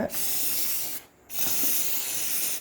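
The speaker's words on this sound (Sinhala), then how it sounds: "මේක තමයි ස්ප්‍රේ කරන්නේ." Fixative spray misted onto a finished pencil figure drawing: a steady close aerosol hiss, briefly stopping for a moment before resuming and continuing to the end.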